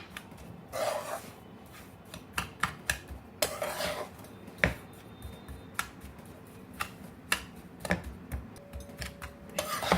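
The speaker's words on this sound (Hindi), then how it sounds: "शुगर मिक्स करके आप इसे 2-3 मिनट अच्छे से घुमाएंगे ताकि शुगर हमारी अच्छे से मिक्स हो जाए।" A spoon scrapes and clinks against a pan while sugar is stirred into an atta ladoo mixture, making irregular sharp taps and scrapes over a quiet background.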